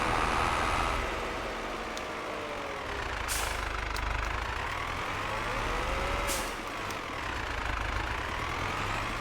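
A tractor engine in the video game Farming Simulator 22 drones steadily at a low rumble, its pitch slowly rising and falling, with two brief hissing bursts like air releases; no talking.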